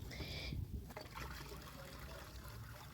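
Water is poured into the outer cylinder of a double-ring infiltrometer set in soil, with a short splashing trickle at the start, then softer dribbling and quiet noise.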